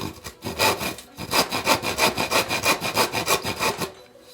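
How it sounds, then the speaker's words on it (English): A very coarse handsaw rips through wood for a Greenland paddle, with a fast, regular series of loud, close rasping strokes after a few hesitant starting cuts, then the saw stops. "This is just using that very coarse handsaw I mentioned in the previous video."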